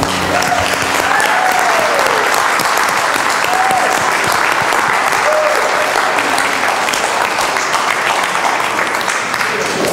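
Sustained, loud audience applause after a Christmas performance, a dense continuous wash of clapping with faint voices mixed in throughout.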